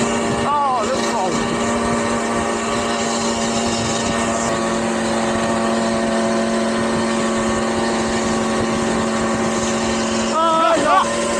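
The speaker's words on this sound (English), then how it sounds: "the scream of these two little two-strokes is scaring them off" Two small 50cc two-stroke mopeds, a Puch Maxi and a BSA Ariel 3, ride together on a road, giving a steady high-pitched engine drone throughout, with brief rising revs near the start and end.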